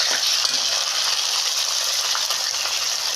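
Onion paste for chicken biryani fries in hot oil with a loud, close, continuous hiss and crackle, steady throughout without speech.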